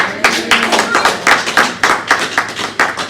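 A congregation at a Punjabi church service claps hands loudly together, a fast run of sharp, close claps in an uneven rhythm, with no talking over them.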